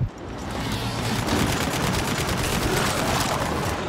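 Sustained rapid machine-gun turret fire in Gears 5, a dense continuous rattle of loud shots running the whole time with no talking.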